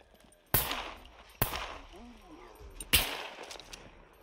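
Gunfire in the survival video game Scum: three sharp, loud shots spaced irregularly over a few seconds, with faint background sound between them.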